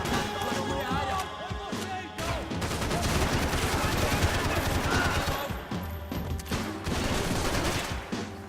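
Rapid, dense bursts of blind-fire gunshots in the video game Max Payne 3, loud and close, rattling almost continuously with overlapping shots and brief dips between volleys.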